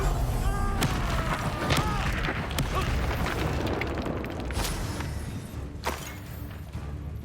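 A Confringo blasting spell goes off in Hogwarts Legacy, giving booming impacts and crashes over a busy background of game sounds, with a sharp burst near the start and another later, moderately loud and close.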